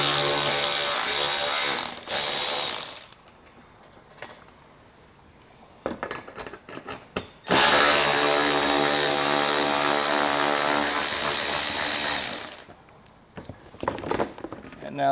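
Two 8mm screws are backed out of the bumper on a 2022 Jeep Wrangler Unlimited with a power tool, heard as a pair of loud, close whirring ratchet bursts separated by quieter pauses.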